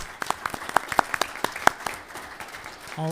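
Scattered applause from a small audience at a city Board of Aldermen meeting, a handful of distinct claps that thin out and fade within a few seconds.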